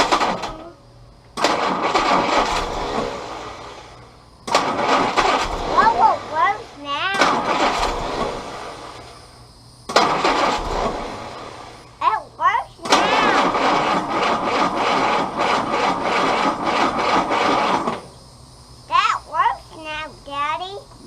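A Willys CJ2a Jeep with an L134 engine cranks repeatedly in long starter bursts separated by pauses, the motor failing to catch, with a voice and other speech in between.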